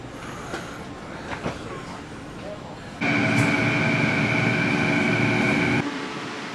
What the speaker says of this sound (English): On the train we go.